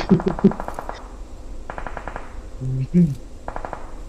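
Bursts of rapid gunfire in the video game PUBG, several quick volleys with a heavy low thump of an explosion midway, loud and close.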